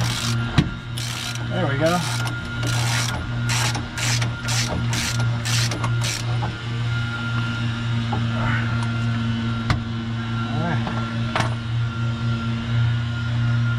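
Ratcheting on a rusted top bolt of a Winnebago RV front shock, with short mechanical clicks and metal scraping over a steady low hum and engine drone. Brief speech occurs.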